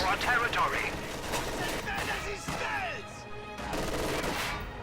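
Machine gun bursts and scattered gunfire in a real-time strategy battle game, continuous and dense across the clip, mixed with other combat effects and heard under a commentator's ongoing speech.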